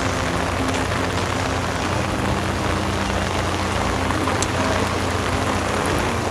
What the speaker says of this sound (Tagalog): Ito medyo lumakas na naman yung ulan.